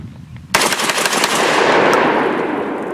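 A 12 gauge AR10 conversion upper from Genesis Arms fires 2 3/4 inch buckshot shells with a round ball and #1 buck, a loud sudden rapid burst of close shots that rings and booms on for seconds.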